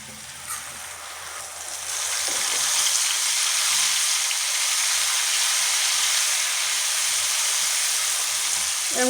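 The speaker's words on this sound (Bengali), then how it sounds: "এরকম করে দিয়ে 1 মিনিট এগুলো ভেজে নেবো" Jackfruit chips fry in hot oil with a continuous bright sizzle that swells after the first couple of seconds, then holds steady and fairly loud with no talking.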